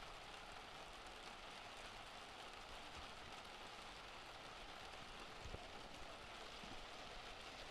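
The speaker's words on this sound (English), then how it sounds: "And it's still dumping rain here." Heavy rain pours down steadily at Long Beach during a stand-up paddle race and surf event, a dense, continuous hiss with no voices and no letup.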